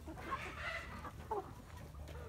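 Chickens in a backyard flock, including Bielefelder and egg-laying hens, give a few soft, scattered clucks and brief calls at a quiet, moderate distance.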